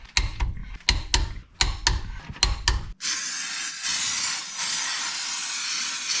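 Aerosol brake cleaner sprayed onto car parts during a Mazda Miata automatic-to-5-speed manual transmission swap: after several short clanking knocks, a loud, steady broadband hiss of spray runs continuously for about three seconds, close up.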